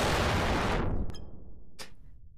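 A big explosion in the video game People Playground: a loud broadband blast that cuts off and decays into a low rumble, followed by two short sharp cracks.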